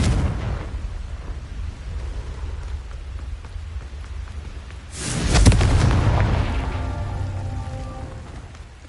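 A Confringo fire-spell explosion in Hogwarts Legacy bursts loudly after a stretch of low rumbling ambience, then trails off in crackling, rain-like debris and a fading ringing tail.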